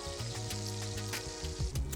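Unsalted butter hits a hot, unwashed pan and sizzles steadily for a couple of seconds, with low tonal background music running underneath.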